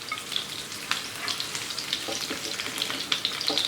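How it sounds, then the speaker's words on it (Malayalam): Capsicum frying in hot oil in a pan, a steady crackling sizzle with scattered sharp pops and spatters, close and moderately loud with no talking. "ഓയിൽ ചൂടായി വരുമ്പോൾ ഇതിലേക്ക് ക്യാപ്സിക്കം ഇട്ടൊന്ന് ഫ്രൈ ചെയ്തെടുക്കണം"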